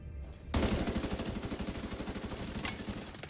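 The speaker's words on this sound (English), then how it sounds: "There he is. I'm shooting him." Rapid automatic gunfire in The Division 2 bursts in suddenly and keeps going as a fast, even rattle of shots, loud and close, with no voices over it.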